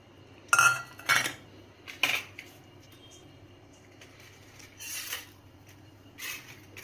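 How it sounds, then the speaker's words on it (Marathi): Spoon clinking and scraping in a bowl while chilli, onion, turmeric and salt are mixed together for appe batter; a few sharp clinks early on, then softer, intermittent scrapes, close by. "आता हे सर्व साहित्य आपण एकत्र करून घेऊया."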